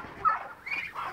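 Muscovy ducks on a smallholding give a few short, fairly loud calls close by over roughly a second, with no talking.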